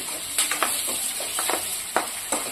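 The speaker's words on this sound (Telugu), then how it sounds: "అలాగే ఫ్రై అవ్వనివ్వండి" Puha with curry leaves frying in a pan gives a steady close hiss, broken by intermittent scraping taps of stirring.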